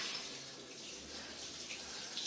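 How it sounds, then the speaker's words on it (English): The last of the rinse water drains from the bottom outlet of a dairy farm's bulk milk tank, a steady close rushing trickle with a low gurgle underneath. "once we get the last bit of water draining out"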